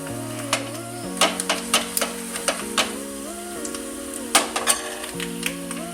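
Hot oil tempering with asafoetida for tomato rasam sizzles softly, with light crackles and ticking pops scattered over a steady tonal background and no talking.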